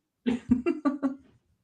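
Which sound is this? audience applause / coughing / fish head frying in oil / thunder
coughing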